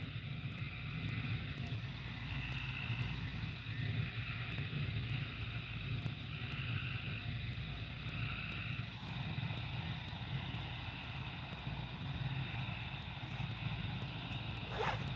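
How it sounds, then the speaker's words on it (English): A steady low engine drone from a passing boat hums from a distance across open water, with a faint windy rush throughout and no talking. "Oh, there's a boat going. I kept hearing something."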